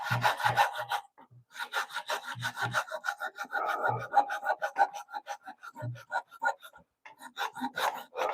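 Hand saw cutting through wood clamped in a vise in a home workshop, a worn blade binding in the kerf; steady rasping strokes in uneven bursts with brief pauses, close and fairly loud, with a few low thumps.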